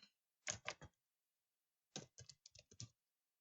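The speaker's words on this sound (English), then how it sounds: "I'm just going to type it." Close, quiet typing on a computer keyboard in two short bursts of crisp key clicks separated by a second of silence.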